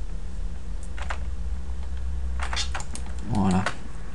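Keys tap on a computer keyboard, a few scattered clicks and a short cluster of presses, close and crisp, with someone talking over them.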